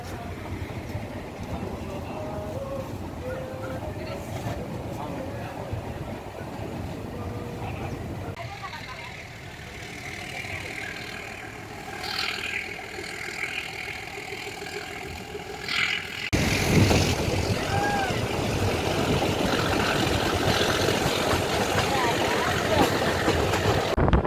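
A meter-gauge passenger train runs from Junagadh to Sasan Gir through the Gir forest, with a steady rumble and rattle of wheels and carriages throughout and a louder, brighter stretch near the end.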